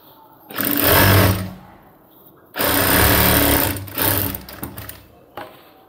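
A sewing machine stitching a folded pocket flap on cargo half pants runs in two loud, close bursts of rapid stitching, followed by shorter stops and starts with no talking.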